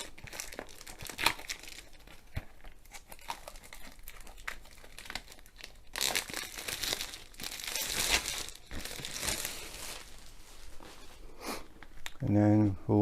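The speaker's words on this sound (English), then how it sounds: "peel off the wrapper." A plastic wrapper is peeled from a Diamond Art Club diamond painting kit box, making close, irregular crinkling and tearing that swells into denser rustling, with a voice heard briefly near the end.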